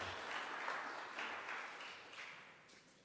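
Audience applause at a government transportation infrastructure announcement following the minister's speech, a steady wash of many hands clapping at moderate distance, fairly faint and fading slightly toward the end.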